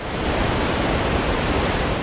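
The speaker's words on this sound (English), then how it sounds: "The falls are not nearly the same height because of the amount of water flowing down the Cumberland River over the falls" Cumberland Falls on the Cumberland River, running at low water, pours as a steady, dense rushing roar with no breaks, loud and close throughout.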